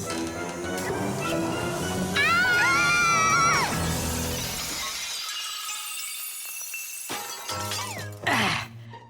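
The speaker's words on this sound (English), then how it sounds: "And who's going to clean up all this broken glass?" Glassware in a cartoon laboratory crashes and shatters loudly, a sustained splintering smash with bright ringing shards that fades into tinkling debris, followed by a short second clatter near the end.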